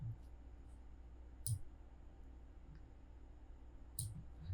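Computer mouse clicks, two sharp close clicks a couple of seconds apart, faint over quiet room hum.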